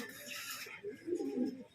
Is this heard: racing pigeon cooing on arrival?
yes